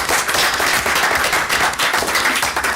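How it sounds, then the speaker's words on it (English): Meeting attendees break into a round of applause, steady dense clapping filling the room at close range for the whole stretch, with no voices standing out. "So I want to give you a round of applause."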